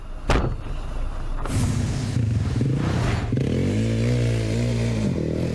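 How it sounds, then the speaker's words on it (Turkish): An ATV engine revving hard as the throttle is pressed, a sharp burst followed by a loud, rising and falling motor whine with clattering and scraping underneath. "ATV aracının gazına bastı, tozu dumana kattı"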